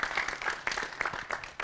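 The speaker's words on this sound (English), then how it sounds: "All right, big round of applause." A short burst of audience applause at a conference, dense overlapping claps coming from a crowd at moderate loudness, with no voices over it.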